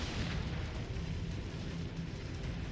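Secondary guns on a warship in World of Warships Legends firing continuously, a dense rumbling barrage of booms and bursts rolling on without pause, fairly distant and steady.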